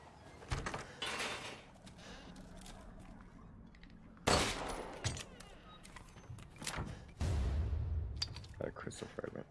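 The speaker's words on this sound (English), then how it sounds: "Let's try shooting down the painting." Gunshots are fired at a painting in Resident Evil 8, with several sharp, loud bangs spread out among quieter clatter and thuds, and a heavy burst with a lingering rumble near the end.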